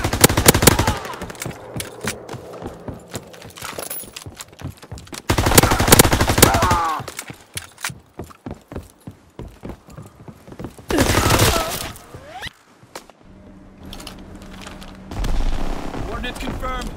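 Bursts of MP40 submachine gun fire rip out in a video game, several sharp loud volleys separated by quieter stretches of clicks, scattered shots and game noise.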